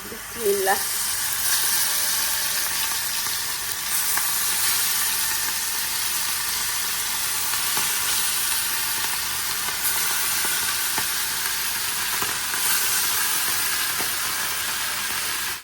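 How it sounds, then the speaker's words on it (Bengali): Poa fish seasoned with turmeric, chilli, salt and lemon juice fry in hot oil in a pan, a loud continuous sizzle and hiss lasting throughout, with a brief clatter near the start. "এই সাইজের পোয়া মাছ এগুলোকে এখন ফ্রাই করবো"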